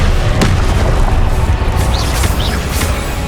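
A Confringo fire spell goes off in the Hogwarts Legacy game as a loud, close fiery boom over a dense, roaring game soundscape, with brief whooshing swells after it.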